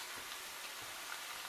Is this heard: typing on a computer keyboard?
no